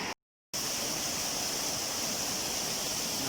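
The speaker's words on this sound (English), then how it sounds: "one of the water, a little part of the waterfall, but I think this is just the river" A river runs beside part of a small waterfall in the Costa Rican rainforest near Parrita, making a loud, steady rushing hiss of water. It cuts out briefly near the start and then continues unbroken, with no talk.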